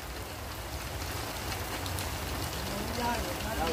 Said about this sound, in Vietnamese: trời mưa cho nên là chúng tôi cũng vẫn làm luôn